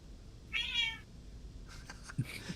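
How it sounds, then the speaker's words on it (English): An angry cat gives one drawn-out, strained meow, followed by a few fainter rustles and a short low grunt. "You find a cat."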